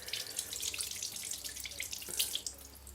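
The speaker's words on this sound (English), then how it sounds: "And then rinse off again." Tap water runs steadily into a sink as a paint brush is rinsed after use with acrylic paint, a close, continuous splashing stream with small spattering drips and no talking.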